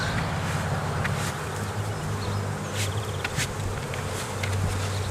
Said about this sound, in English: Get the bees off of this hive top.